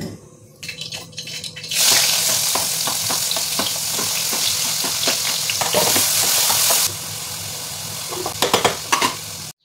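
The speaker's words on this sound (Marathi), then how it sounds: "पहिल्यांदा मटकीची उसळ फोडणीला टाकेन" Sprouted moth beans (matki usal) dropped into hot tempering oil in a home kitchen, a sudden loud sizzle that holds steady with stirring scrapes and clinks, then fades into scattered pops near the end.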